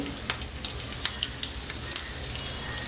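Garlic dropped into hot oil in a pan for sandge bhaji, a bright steady sizzle peppered with sharp spitting pops, close and fairly loud with no one speaking.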